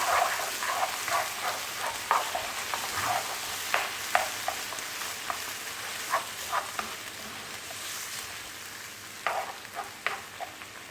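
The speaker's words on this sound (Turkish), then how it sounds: "Yine kavurmaya devam ediyoruz." Sauce with zucchini sizzling and being stirred in a pan for zucchini spaghetti, a steady frying hiss broken by frequent clicks and scrapes of a utensil against the pan, close and moderately loud with no talk.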